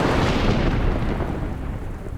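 A thunderstorm sound effect from a stage production of The Tempest: a loud, continuous rolling rumble that fills the stretch without a break, easing slightly toward the end, with no voices.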